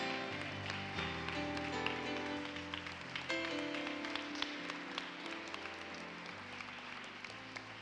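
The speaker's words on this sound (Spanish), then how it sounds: "Dale un aplauso a mi Señor, aleluya." A church congregation claps along steadily through lively worship music, the handclaps forming a dense, continuous layer mixed with sustained instruments and singing.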